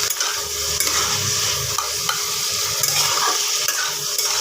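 Mixed vegetables with turmeric and cumin powder sizzle in a pan, a dense continuous hiss close by with intermittent scraping stirs and light clinks, no voices present.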